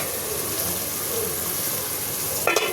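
Hilsa fish frying with turmeric and chili in a pan, a steady close hiss of sizzling oil with a brief clatter near the end.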